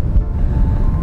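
Cold wind buffeting a microphone on a golf course, a steady loud low rumble with gusty fluttering and no voice over it.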